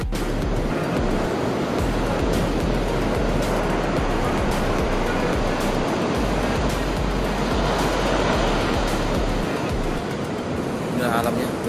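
Ocean surf rolls steadily onto Jetis Ketawang beach in Purworejo, a loud continuous wash of breaking waves with wind buffeting the microphone throughout.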